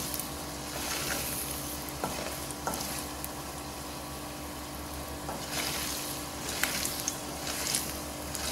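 Curry leaf and coriander thokku frying in oil in a pan, with a steady close sizzle and occasional soft scrapes and clicks of stirring throughout, no talk.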